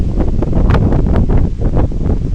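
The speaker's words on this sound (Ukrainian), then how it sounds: "якийсь вітер розхожується" Strong wind buffets the microphone in loud, rumbling gusts, a constant roaring rush with no clear voices.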